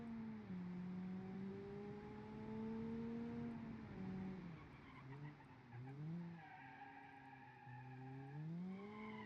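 Tires squeal in a long, wavering screech as a 2001-style car brakes too late in the BeamNG driving game. The squeal rises and falls in pitch over a steady engine drone.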